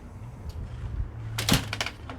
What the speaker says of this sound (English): They're a three-way door, and you can split them to have the